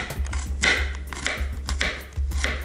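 Knife chopping two garlic cloves for a fresh vegetable salad with Chinese cabbage: four or so crisp, close chops at an uneven pace, with no talking.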